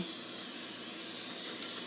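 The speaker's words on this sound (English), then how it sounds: "So we're going to spray it really well." Cooking spray hisses steadily from a can onto raw chicken pieces being prepared for oven-fried chicken, one continuous close-up spray with no pauses.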